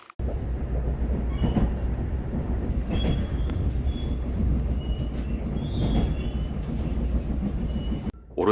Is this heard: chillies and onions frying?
no